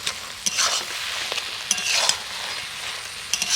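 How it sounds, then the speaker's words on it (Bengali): A raw potato mixture is stirred in a pan as it dries toward a dough, with a constant loud sizzle and a handful of sharp scraping strokes spaced a second or so apart. "এইভাবে নাড়তে নাড়তে দেখবেন অনেকটা কিন্তু জল শুকিয়ে যাবে আর একটা ডোতে পরিণত হয়ে যাবে"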